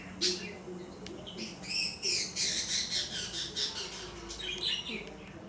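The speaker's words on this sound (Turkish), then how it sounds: "Benim bir muhabbet kuşum vardı. Muhabbet kuşum ötüyor." A small budgerigar squawks and chatters in rapid, scratchy bursts, close and fairly loud, with a low hum of voices beneath.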